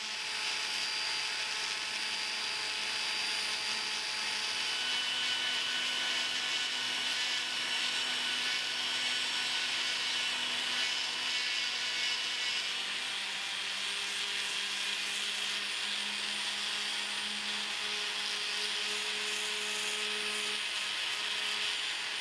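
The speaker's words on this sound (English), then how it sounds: "I will start by sanding the ring band and making it even. I'm using rotary tool and coarse Eve silicone attachments, white and black ones." A rotary tool fitted with coarse white and black silicone attachments sands a ring band, giving a continuous high-pitched whirring grind that holds steady throughout, close and alone.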